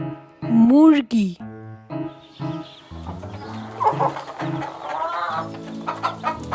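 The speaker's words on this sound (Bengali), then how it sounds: "মুরগি।" A hen clucks and a rooster-like rising call sounds in a children's bird-name lesson, with tonal, musical-sounding calls in short bursts, mixed with a voice speaking.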